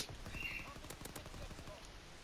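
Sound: gunfire from a video game (MW2 Remastered)

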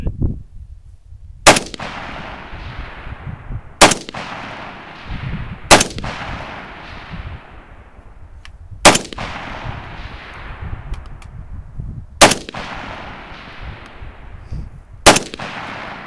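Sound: rifle gunshots at shooting range

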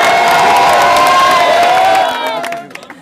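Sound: crowd applauding and cheering for a performer

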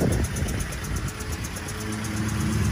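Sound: 1940 Ford truck flathead V8 engine running

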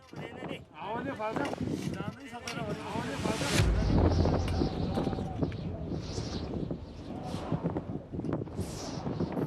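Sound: strong wind on a mountain climb

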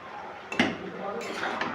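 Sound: stirring winter vegetable curry in a covered pan

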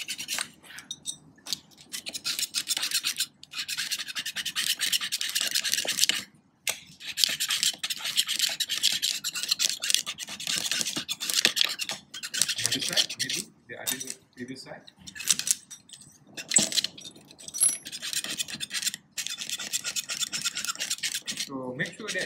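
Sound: metal scraper scraping off a corroded metal surface

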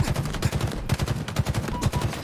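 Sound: gunshots in the video game Halo Infinite

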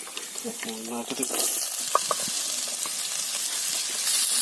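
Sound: curry leaves and mango ginger sizzling in hot oil for pickle

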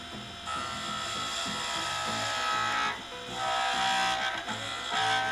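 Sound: rough turning Tasmanian oak pen blank with skew chisel on lathe

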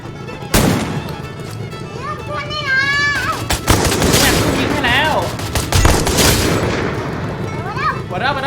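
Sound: gunshots in the video game Free Fire

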